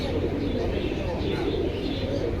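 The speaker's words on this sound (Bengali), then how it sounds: "তো দর্শক দেখতেই পাচ্ছেন কবুতরগুলো খুব সুন্দর" Silver pigeons coo at the pigeon section of Jinjira market, a soft continuous cooing set in dense market bustle with people talking nearby throughout.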